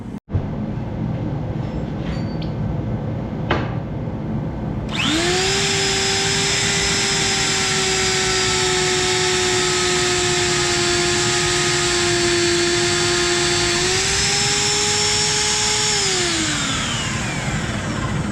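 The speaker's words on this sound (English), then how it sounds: "We'll go ahead and start drilling." A magnetic drill gives a loud, steady mechanical whine with a strong droning tone, running continuously, starting abruptly after a few seconds of quieter noise and dipping slightly near the end.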